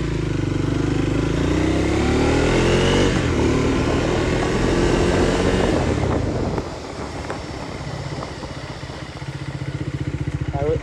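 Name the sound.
Triumph Speed 400 motorcycle being ridden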